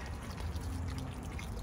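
Water pours steadily onto the soil of a potted snake plant, a continuous soft trickle and splash heard up close with no talking.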